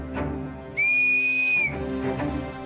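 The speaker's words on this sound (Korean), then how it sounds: "호루라기를 불기 시작합니다" A man standing at the foot of a cliff on Jirisan mountain blows a whistle. One long, steady, shrill blast lasts about a second, loud and close, between quieter ambient sounds.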